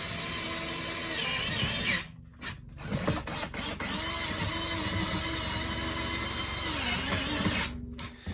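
Power drill driving screws inside a truck camper during a remodel, a loud continuous whirring motor that stops briefly, stutters in short bursts, then runs steadily again close by.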